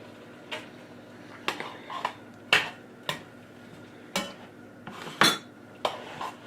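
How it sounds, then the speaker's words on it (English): Utensils clatter and scrape against a cooking pot as vegetables, including carrot and celery, are mixed into a pork chile colorado, with about ten sharp clinks and knocks in an irregular rhythm, close and fairly loud. "I'm going to mix the vegetables."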